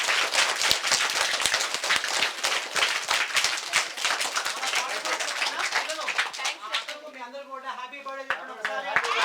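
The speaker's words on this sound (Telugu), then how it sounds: "మీ లక్ష్మణ్ సార్కు క్లాప్స్ కొట్టండి ఒకసారి." Government schoolchildren in Ibrahimpur clap together for their teacher, a loud, ragged run of claps lasting several seconds, then a voice speaks as the clapping thins out.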